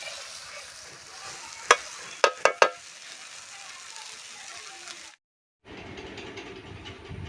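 Eggs frying with pea masala in a pan give a steady close sizzle, broken by a few sharp scraping clicks from stirring, then a brief silence before the sizzle returns.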